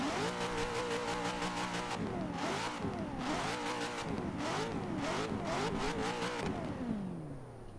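A Corvette Z06 built up in Forza Horizon 3 revs hard through repeated climbing and falling engine sweeps, loud and continuous, with several blips before the revs wind down at the end.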